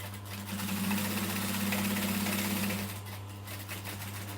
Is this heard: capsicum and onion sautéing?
no